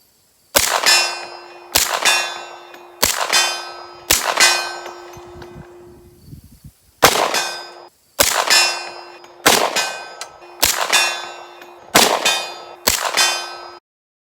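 A pistol fitted with a Dead Air Mojave 45 suppressor fires about ten evenly spaced shots. Each sharp report is followed by a ringing metallic clang, with a short pause in the middle of the string.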